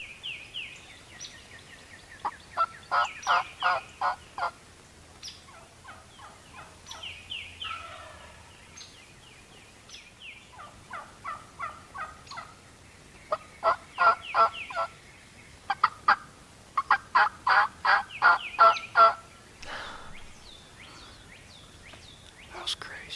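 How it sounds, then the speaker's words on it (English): Wild turkey gobbler gobbling in the woods, repeated rattling bursts at moderate distance, some fainter and some louder, with quiet whispering between calls. "this gobbler's still down in here"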